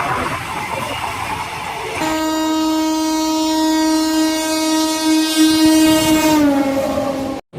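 The 17643 Chengalpattu–Kakinada Circar Express passes on the track with rumbling wheels, then a loud, long horn blast that holds for several seconds and bends down in pitch before cutting off, with no voices.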